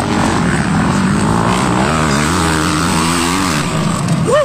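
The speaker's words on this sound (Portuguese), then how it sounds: "E agora na passagem do Juninho" A motocross motorcycle races past at speed on an MX1 track in Santa Cruz do Capibaribe, its loud engine rising and falling in pitch as it passes close, with a crowd or commentator voice faintly underneath.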